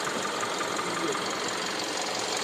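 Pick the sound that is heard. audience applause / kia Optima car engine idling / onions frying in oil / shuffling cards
kia Optima car engine idling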